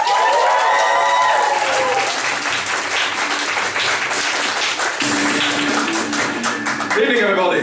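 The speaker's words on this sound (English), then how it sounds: "give a massive, massive round of applause for our final act of the evening and of the year" Comedy club audience applauding a comedian's entrance as the final act of the night, a dense, loud wash of clapping throughout, with a host's voice speaking over the start and a performer's voice near the end.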